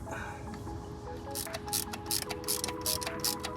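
Ratchet clicking in short bursts while tightening the top AC compressor bolts on a Honda Civic, close and fairly loud over a steady background hum.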